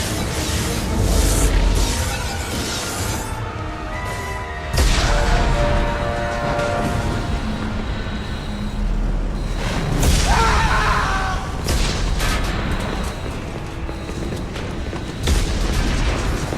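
Repeated heavy booms and rumbling explosions on a spaceship under attack in a video game, several deep blasts spaced a few seconds apart over a dense noisy background.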